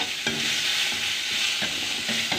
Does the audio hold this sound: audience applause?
no